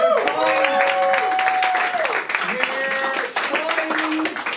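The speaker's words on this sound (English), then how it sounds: "Applaud these people." An audience at a live New Orleans Saints fan show claps and cheers loudly and steadily throughout, a dense wash of applause with some whoops and voices mixed in.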